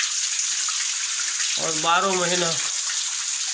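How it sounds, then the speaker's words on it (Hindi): Cool Ram Ganga river water flows from a mountain pool beside a cave shrine of Jarneshwar Mahadev, a steady close rushing wash that runs throughout while someone speaks briefly midway. "यहाँ ये शीतल राम गंगा का पानी बहता है।"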